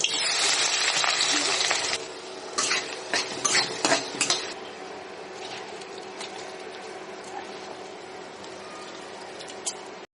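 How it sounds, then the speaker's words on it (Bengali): Onion, ginger, garlic and three dried red chillies frying in oil in a hot kadai, with a loud burst of metal-on-metal stirring clatter at first that settles into a steady low sizzle with only occasional scrapes. "এখানে হচ্ছে আমার পেঁয়াজ, আদা, রসুন এবং শুকনো মরিচ একদম লালচে ভাজা হয়ে গেলে"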